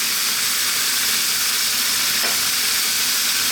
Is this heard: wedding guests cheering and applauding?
no